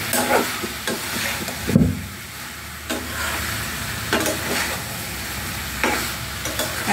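Taro stolons being stirred with spices in a hot pan, a steady frying sizzle broken by repeated scraping strokes of a spoon against the pan, close and fairly loud, with no talk.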